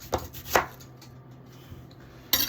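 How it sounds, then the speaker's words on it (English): A knife cuts through an onion into ring-sized slices for gluten-free onion rings, giving a few crisp, quiet chops on a board with pauses between them. "you just cut it into little onion ring sizes"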